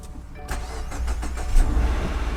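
A Subaru car that has been jump started cranks briefly with a few rapid turning pulses, then catches and settles into a running idle, close and moderately loud.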